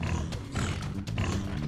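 A pig-like mob in Minecraft Pocket Edition grunts and snorts in a few rough bursts close up, over a steady background of game sounds.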